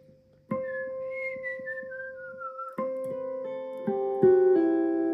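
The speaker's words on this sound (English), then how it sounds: "playing an octave lower and raising it up with a harmonic." Clear, sustained harp harmonics ring out one after another, each entry layering over the last, with a pure bell-like quality and no talking.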